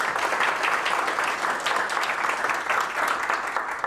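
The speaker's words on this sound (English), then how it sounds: "applause for everyone" Warm, continuous applause from the audience at a finalists breakfast for the 2025 ImpaCT Awards, a dense, even clapping texture from a sizable room that stays steady throughout.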